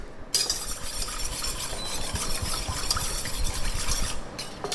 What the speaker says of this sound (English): I put a little pinch of sugar into the milk. So what that does, it will stop the milk catching the pan and I'll give it a quick whisk